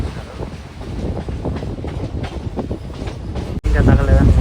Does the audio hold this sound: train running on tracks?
yes